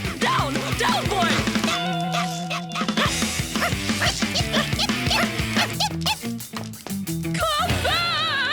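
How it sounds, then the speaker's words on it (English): A cartoon dog yips and barks repeatedly amid busy, loud background music and action sound effects, the barks partly buried in the mix. "Stop that! You horrible dog!"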